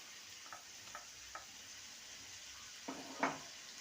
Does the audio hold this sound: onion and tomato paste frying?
yes